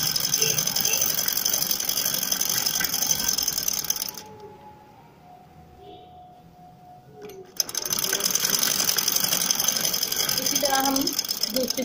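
Sewing machine running steadily while stitching fitting seams on a shirt, a dense mechanical whir with a pause in the middle before the stitching resumes, under occasional talk.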